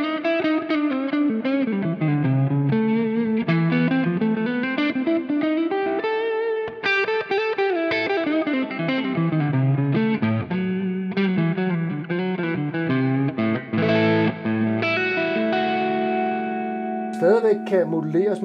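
Distorted Epiphone Firebird electric guitar fitted with a Lundgren Firebird pickup, playing a sustained melodic phrase with rich overtones and effects, loud and continuous.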